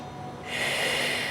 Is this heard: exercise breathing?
yes